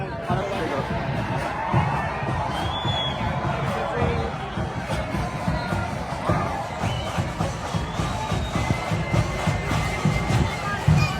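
A large outdoor crowd in England fills the air with a steady wash of overlapping voices, chatter and occasional shouts, dense and continuous throughout with no single voice standing out.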